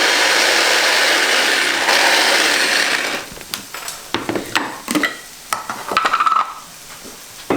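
A silicone spatula scrapes around a bowl or pan, first a continuous broad rasp, then a run of short separate scrapes and knocks, close and fairly loud.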